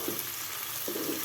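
Curry leaves sizzling in a pan of fish curry, a steady bright frying hiss throughout with a couple of soft clinks or stirs, close and moderately loud.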